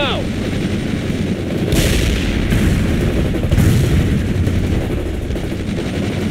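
Gunfire crackles through a dense combat soundscape in a video game, with bursts and booms layered over a constant loud rumble of engines or rotors, close and sustained.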